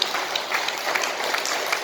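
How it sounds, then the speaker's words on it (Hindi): A crowd at a youth stage event applauds, steady dense clapping filling the short stretch at fairly loud level with no pauses. "जोरदार ताली बजाएं तीनों के लिए।"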